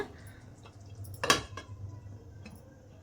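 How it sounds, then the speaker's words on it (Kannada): A lid is set down on a pot of simmering Andhra-style guthokai curry, giving a single sharp clatter midway through a quiet, faintly humming kitchen with no talking. "ಲಿಡ್ ಕ್ಲೋಸ್ ಮಾಡಿ ಒಂದು 5 ನಿಮಿಷ ಕುದಿಸ್ಕೊಳ್ಳೋಣ."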